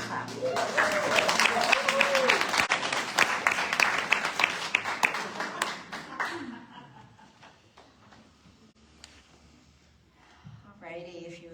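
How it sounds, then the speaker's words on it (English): Congregation clapping together at a Sunday celebration church service, a dense burst of hands for about six seconds alongside singing voices, then fading into quieter room sound with some talk near the end. "And we can clap."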